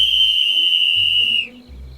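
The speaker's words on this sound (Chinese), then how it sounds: "你看看，哨子吹了这么久你才来" A loud, shrill whistle blown in one long continuous blast lasting about a second and a half, close and alone, then cutting off to low rumbling background.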